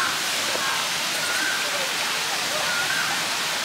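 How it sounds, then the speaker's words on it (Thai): A scenic waterfall on a day trip to a Thai-Danish dairy farm, heard as a steady, broadband rush of falling water that fills the whole clip at an even, fairly loud level, with faint voices underneath. "น้ำตกอยู่ตรงนี้สวยมาก"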